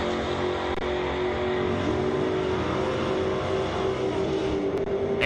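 Pontiac long roof drag car, a 1960s model, at Kansas International Dragway, a sustained roaring engine note that holds and climbs slightly, moderately loud and somewhat distant, with no talk over it.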